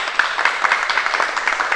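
Applause at a ceremony celebrating a school's success at the International Robot Olympiad, a brief dense patter of many hands clapping at steady loudness, ending abruptly.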